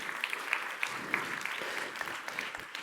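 A conference audience applauding, a faint, even wash of clapping heard from a distance.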